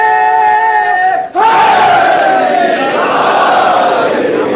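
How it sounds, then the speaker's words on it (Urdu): A crowd chants slogans together in unison at a Shia majlis mourning gathering for Fatima Zahra in Kuwait. The mass of voices swells into a loud, sustained roar after a brief dip and then holds steady. "نعرے"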